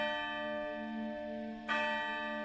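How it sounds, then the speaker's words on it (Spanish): Tower church bell ringing, a sustained resonant hum from a previous strike fading, then a single fresh loud clang near the end. "La campana de la torre dio las 12."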